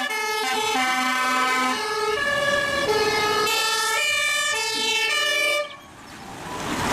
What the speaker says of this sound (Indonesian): keluarlah mobil damkar